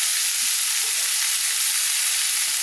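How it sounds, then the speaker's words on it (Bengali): Chopped winter vegetables fry lightly in a pot for vegetarian khichuri, giving a dense, unbroken sizzling hiss up close with no talk. "সেগুলো আমি খিচুড়িতে ভেজে একটু হালকা হালকা করে ভেজে দিয়ে দেবো।"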